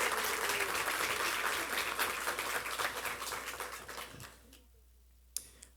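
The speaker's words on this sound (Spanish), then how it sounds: "Un aplauso, por favor." An audience at an academic family-law conference applauds with dense, sustained clapping that fades away, ending in near silence with one sharp click.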